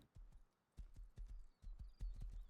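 Horse hooves clip-clop in a steady, moderately paced rhythm as a mount moves through a Rust game world, the impacts close and fairly quiet with a faint whinny-like tone in the background.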